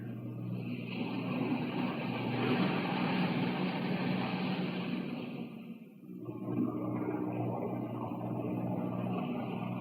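Boat engines drone steadily on a vessel heading across water, a continuous broad rumble that dips briefly midway then resumes at the same level, with no voices.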